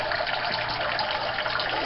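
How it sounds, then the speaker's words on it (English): Water from a canister filter spout pours steadily into a turtle tank, a continuous splashing gush at an even, fairly loud level throughout. "into this water spout that releases the water back into the tank."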